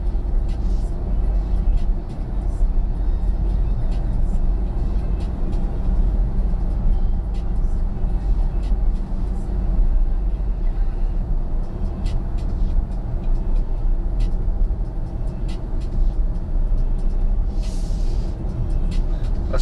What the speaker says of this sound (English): driving my brand new Tesla Model Y.